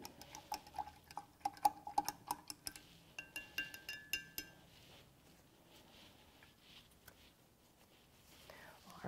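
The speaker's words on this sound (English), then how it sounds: "Let's rinse the brush one more time." Paintbrush rinsed in a water jar, with a quick run of light glassy clinks and taps for several seconds before things go quiet, and a faint soft voice in the background.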